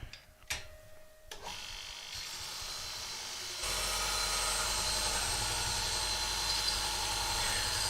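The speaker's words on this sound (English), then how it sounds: "Let me just sharpen the gouge." A woodturning gouge is sharpened on a grinder: a few sharp clicks and knocks come first, then a loud, steady whirring hiss of the grinding wheel carries on to the end.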